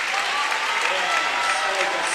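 Spectators at a boys' high school swim and dive meet applaud after a forward two-and-a-half somersault tuck dive, sustained dense clapping from a crowd in an indoor pool, with some voices mixed in.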